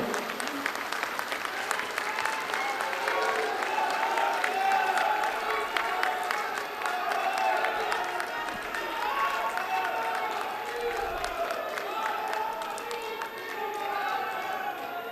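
A standing crowd at a chief minister's rally in a historic vegetable market in Mahendergarh breaks into long, sustained applause, dense clapping and crowd murmur rolling on steadily, with a voice faintly audible underneath.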